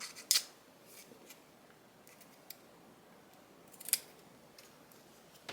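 Scissors snip through corner folds of a fabric or paper piece in a quiet room, a few sharp isolated cuts spaced seconds apart with faint handling sounds between.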